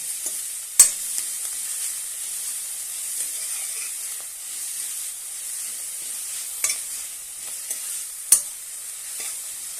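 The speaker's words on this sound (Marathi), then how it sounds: "छानपैकी एकत्र करून घेऊया।" Chopped fenugreek leaves sizzle steadily in a pan for methi kadhi as a spoon stirs them, with a few sharp scrapes and taps against the metal over the constant hiss.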